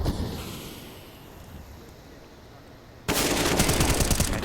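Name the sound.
gunshots in Counter-Strike video game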